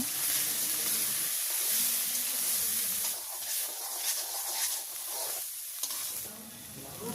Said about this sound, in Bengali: জিরা বাটা, পেঁয়াজ, রসুন, আদা বাটা, সব মশলাগুলো এখন সুন্দর করে কষাই নেব।